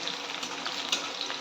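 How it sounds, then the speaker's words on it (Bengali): Onions browning in hot oil in a home kitchen, a close, steady sizzle with faint spatters and light stirring, no voices over it. "এবার এখানে পেঁয়াজটা লাল করে ভেজে নিচ্ছি।"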